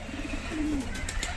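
A medium-sized, strong domestic pigeon in a village coop gives a short low coo once amid faint background noise.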